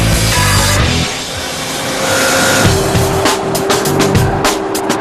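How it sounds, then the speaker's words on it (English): A wheel-forming machine shapes an aluminum disc into an 18-inch forged wheel without coolant, giving a loud, continuous grinding roar with a harsh metallic screech and rapid rattling bursts near the end. "We asked them to run the machine without coolant for a minute, so we could see how it shapes and stretches the metal."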